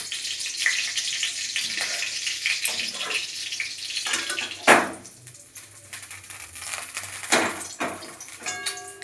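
Nigella seeds and curry leaves sizzle and crackle in hot oil in a home kitchen, a steady frying hiss with occasional louder pops and stirring scrapes, close and fairly quiet throughout.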